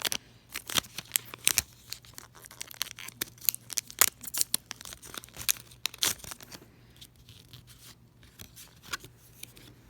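Scissors snipping open Pokémon booster packs, a close run of sharp cuts and crinkling foil wrapper, irregular and busy, thinning out toward the end.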